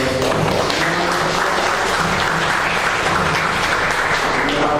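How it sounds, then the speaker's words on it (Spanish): Steady applause from a lecture audience welcoming Lic. Abraham Guerrero Uribe, a dense, even wash of many clapping hands that holds at the same loudness throughout. "Un aplauso."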